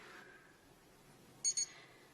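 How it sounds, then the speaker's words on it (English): A digital wristwatch alarm gives two short, high electronic beeps close together, faint against a quiet room. "It's got a stopwatch and an alarm, and it beeps on the hour."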